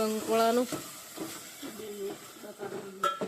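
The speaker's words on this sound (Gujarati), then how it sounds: "શાક વઘારી દીધું" Spiny gourd and potato pieces sizzle as they are tempered in hot oil in a home kitchen, giving a short crackling hiss with some stirring. Voices talk over the frying throughout.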